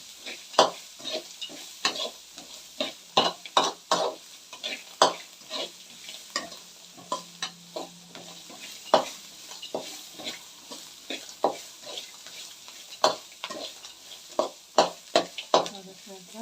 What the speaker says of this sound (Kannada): ಇವಾಗ ಈರುಳ್ಳಿ ಎಲ್ಲ ಕೆಂಪಾಗ್ತಾ ಇದೆ.